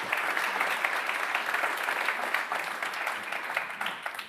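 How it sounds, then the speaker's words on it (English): An audience applauding to welcome conference speakers, a steady dense clatter of many hands clapping from a seated crowd, sustained and slowly tapering. "So please welcome our speakers with applause."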